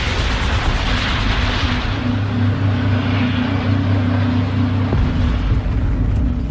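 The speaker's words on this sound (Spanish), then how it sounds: "Los controladores aéreos escuchan las explosiones" Low, heavy rumble with steady droning tones, like burning wreckage and explosions after a collision between two airliners on a foggy runway, continuous and loud without speech, with a brief thump near the end.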